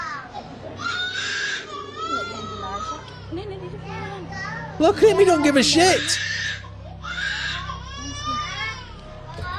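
A young child cries and screams in loud, wavering wails with a sharp peak partway through, while adults talk over and between the cries.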